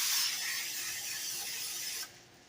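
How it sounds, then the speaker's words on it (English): A can of vegetable oil cooking spray greasing a pie dish for a dairy-free pumpkin pie gives a steady, close hiss for about two seconds and then cuts off abruptly. "I'm basically going to just spray it with vegetable oil."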